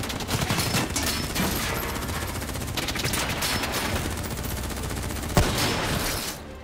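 Sustained automatic gunfire crackles through a Call of Duty: Black Ops firefight, dense and continuous bursts with one sharp louder shot near the end before the shooting fades.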